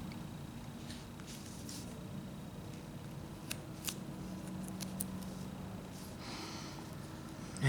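A small knife whittles a wooden bear figure up close, making faint, scattered scraping and slicing ticks over a quiet hissy background.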